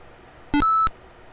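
A single short electronic beep from Pong on the Atari 2600 sounds once, bright and clean, lasting about a third of a second over quiet background hiss.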